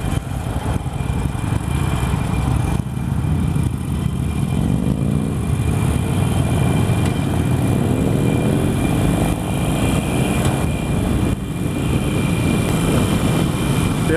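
A Harley-Davidson Iron 883 motorcycle on a demo ride around town, its engine heard as a loud, steady rumbling drone with some wind buffeting that holds throughout the whole stretch, with no talking.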